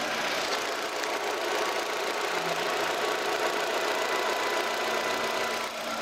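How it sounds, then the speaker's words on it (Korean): A Renault Samsung SM3 car engine idling, recorded up close in the open air at a used car dealership, a steady broadband hum and rumble holding evenly throughout with no talk. "앞에 나가서 엔진 소리 듣고 마무리하시죠."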